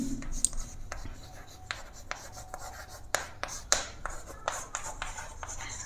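Marker or chalk writing on a board during a chemistry lesson on electrochemical and electrolytic cells: faint, close scratchy strokes and sharp taps in an irregular rhythm, with no voice over them.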